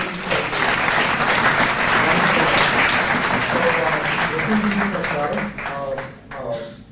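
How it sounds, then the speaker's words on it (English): Audience applause at an inaugural ceremony in a hall, a loud sustained burst of many hands clapping that thins and fades near the end as a voice begins speaking. "So just a round of applause to everyone."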